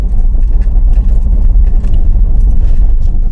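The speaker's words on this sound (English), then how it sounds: "Hey, a car." A car passes along a camp road in the Maine woods near St Croix, heard as a steady, loud low rumble of engine and tires close by, with no voices.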